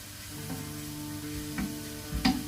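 Onion and tomato sweating in a pan with a steady soft sizzle, broken by a few brief stirring clinks and scrapes close by.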